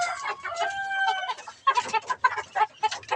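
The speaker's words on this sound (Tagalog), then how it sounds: "Pakainin ko naman yung mga kapatid nitong mga manok na ito" Several chickens cluck and chatter close by in a busy, overlapping flock, with short repeated calls and a brief squawk.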